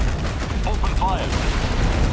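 Units in the strategy game Tempest Rising, Tempest Dynasty faction, open fire in a dense, continuous crackle of gunfire that runs the whole moment, with a short voice line rising briefly above it.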